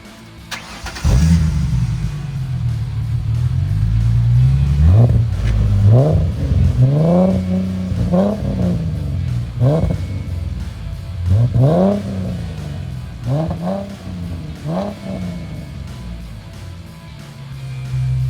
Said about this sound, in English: That was the C&L Sport Axleback exhaust with a black tip for the 2005 to 2010 Mustang V6.